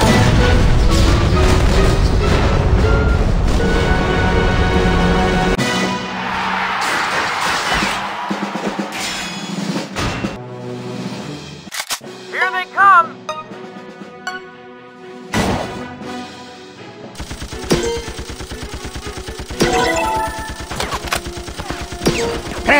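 A video game battle with a Hydra weapon, enemy minigun, tank and rocket turret: a loud opening barrage of gunfire and booms gives way to scattered blasts, thuds and electronic effects, with quieter gaps and heavy fire returning near the end.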